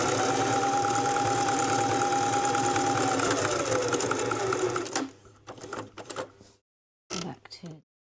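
Sewing machine running a continuous zigzag stitch on rope for about five seconds, loud and steady, then stopping, followed by brief bursts of handling noise and a short voice.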